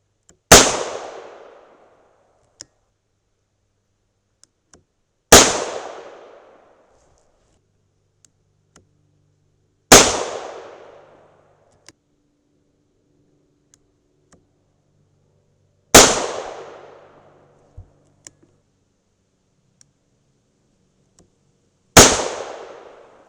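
Five loud, sharp .38 Special +P revolver shots, 125-grain Hornady XTP loads fired double action, spaced about five seconds apart, each with a short decaying echo and near-silence between.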